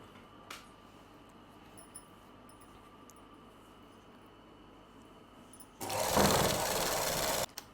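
A sewing machine stitches a palazzo, running in one loud, steady burst near the end after several seconds of near silence.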